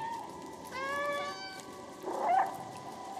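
Two cat meows in the video game Stray, one drawn-out call early on and a shorter, wavering one about a second later, heard clearly over a soft ambient game backdrop.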